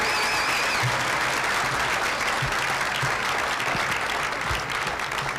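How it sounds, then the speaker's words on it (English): Loud, sustained applause from an audience at a state bill-signing ceremony fills the room, steady clapping from many hands with no one speaking over it. "let's give a nice big round of applause to Senate President Karen Spilka"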